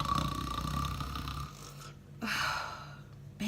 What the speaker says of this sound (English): All of a sudden, the guards snored extremely loudly.